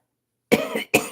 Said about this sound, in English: Excuse me for coughing in your ears.